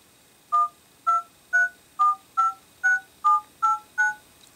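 Keypad tones sound from the phone dialer of a ZTE Open running Firefox OS, a clean run of nine evenly spaced two-pitch beeps, each short and clear, with no talking.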